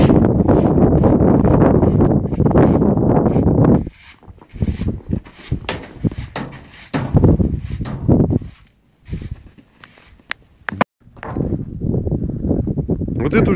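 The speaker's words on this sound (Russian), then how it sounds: "ветер сифонит" Gusty wind at an outdoor shooting range in December buffets the microphone with a loud, rumbling roar at first, then comes and goes in irregular bursts.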